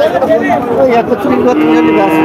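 A Kuraj-breed heifer calf lets out a drawn-out moo at close range amid the chatter of a busy crowd at the Chougachha cattle market in Jessore, Bangladesh.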